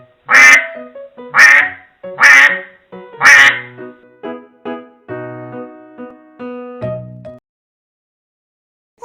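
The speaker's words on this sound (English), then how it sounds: "Duck." A duck quacks loudly and close in four bursts, each a run of raspy calls, followed by a quieter stretch of tonal notes and then silence.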